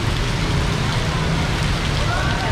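Heavy rain pours steadily at a street market, a dense, continuous hiss of drops on surfaces close by, with no clear talk over it.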